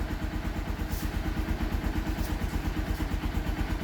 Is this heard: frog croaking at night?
no